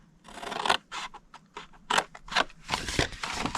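Scissors snip through cardstock up to a score line while making a paper treat box, a rapid irregular series of crisp close cuts and slides with short gaps between strokes.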